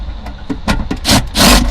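Bolts being tightened during a safe installation in a 2021 Chevy Tahoe, a few close, loud ratcheting and clanking bursts that build into two heavier rasping pulls near the end.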